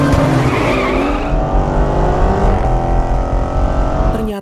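A BMW E46 M3 and a blue Hyundai Genesis Coupe race, their engines roaring loud and close while tires squeal and skid in long, sustained screeches that run throughout.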